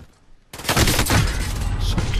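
Dense burst of automatic gunfire from Call of Duty Cold War Warzone, starting abruptly after a quiet moment and continuing as loud, rapid overlapping shots.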